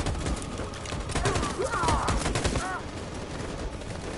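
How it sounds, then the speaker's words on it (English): Sustained machine gun fire in the war video game Detroit, a dense, continuous rattle of shots with distant battle noise and shouting voices mixed in. "That machine gun is taking down everything that moves!"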